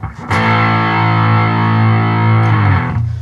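Electric guitar played through a Digitech Hotrod distortion pedal with the Morph control turned fully up: a loud, thick, bass-heavy distorted chord sustained for about two seconds before being cut off, with a short strum at either end.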